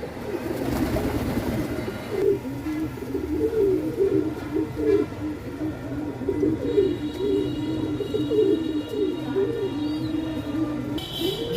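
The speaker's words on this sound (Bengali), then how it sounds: "ওর একটা কবুতর আর একটা কবুতরকে আদর করে দিচ্ছে বন্ধুর মতন।" Pigeons coo in a close, steady run of soft, rolling calls that repeat without pause, with a few faint higher chirps now and then.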